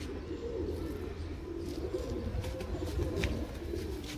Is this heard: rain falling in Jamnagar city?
no